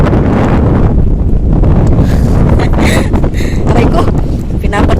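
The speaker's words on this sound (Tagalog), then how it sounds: "pinapadpad ako ng hangin" Strong wind buffets and roars steadily across the microphone near warm water, a loud, continuous rushing with slight surges throughout. Speech is mostly buried beneath it.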